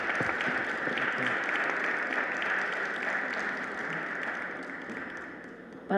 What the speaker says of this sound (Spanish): nuestra querida Ana Romero, que también un aplauso para ella, por favor.